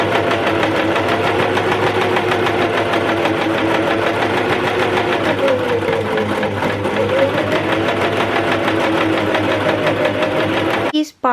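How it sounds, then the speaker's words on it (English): Sewing machine stitching a long seam on homemade pyjama bottoms, a steady close whirring and rapid needle chatter running unbroken for about eleven seconds before it stops abruptly at the end. "we're gonna like get ready the machine, and we're gonna sew all the line"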